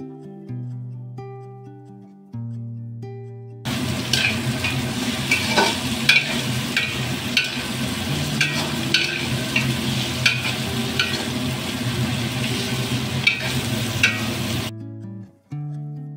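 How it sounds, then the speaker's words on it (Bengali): Chopped tomato, whole dried red chillies and onion fry in a pan for a Bengali dish: a loud, steady sizzle with stirring scrapes fills the middle of the clip, with music playing before and after it. "এরপর টমেটো কুচি, গোটা শুকনো লঙ্কা ও আরও কিছুটা পেঁয়াজ কুচানো দিয়ে দেব।"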